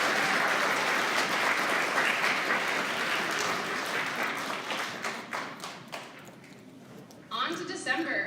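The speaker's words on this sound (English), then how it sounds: "One more round of applause for our November Student of the Month." A room full of students and families at a school awards assembly applauds for a November Student of the Month, dense clapping that thins and fades out, followed by a voice speaking at the end.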